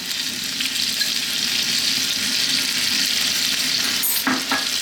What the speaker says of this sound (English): we need to fry these potatoes around for about 4 to 5 minutes